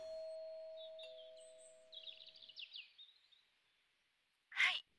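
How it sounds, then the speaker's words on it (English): A front-door doorbell chimes with a sustained, slowly fading two-tone ring, followed by a fluttering, chirpy trill and a short, sharp burst near the end. The sounds are fairly quiet and no one speaks. "I'll ring the doorbell."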